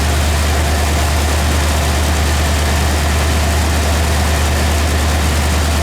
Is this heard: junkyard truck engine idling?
yes